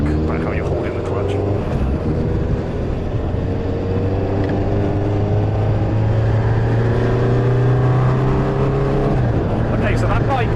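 An air-cooled motorcycle engine idles steadily close by, a low continuous rumble with a faint pitch drift near the end, while someone talks over it.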